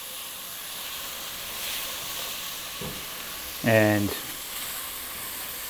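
Celery, carrots and onions sizzling in a pan for a braised chicken sauce, a steady soft frying hiss with a brief louder clatter of stirring or utensil midway, a single spoken word over it.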